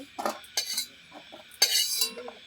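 Metal utensil scrapes and clinks against a wok while lifting out fried cashews, a few quick rattling strokes, close up with no talking.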